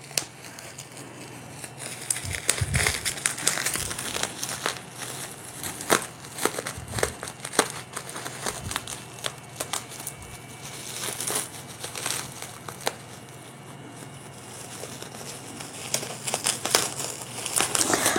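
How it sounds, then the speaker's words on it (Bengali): Plastic bubble wrap around a parcel of books crinkles and crackles nonstop as it is unwrapped by hand, with sharper rustles and occasional thumps, close and steady throughout. "আর বাবেল র্যাপটা খুলবো।"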